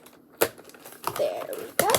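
A piece of tape is handled close by, giving short crinkling and crackling bursts in a few separate handfuls, with a voice briefly audible alongside.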